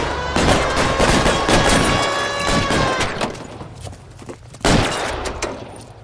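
Gunfire from L.A. Noire during a car chase with the Mafia: a dense, loud volley of rapid shots lasting a few seconds. After a short lull, a second sharp burst follows.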